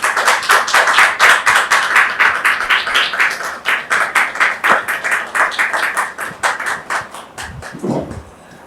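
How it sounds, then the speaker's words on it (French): A studio audience claps loudly to welcome guests onto a talk show set, strong rhythmic clapping that gradually thins out and fades toward the end. "Merci de les recevoir sous vos applaudissements"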